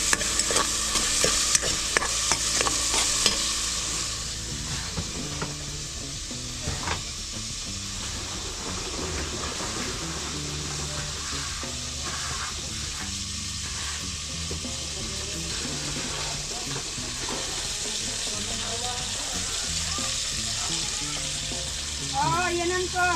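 Garlic and onion frying in a pan with steady stirring and a broad sizzle that runs the whole time, close and fairly loud, with brief voices in the background.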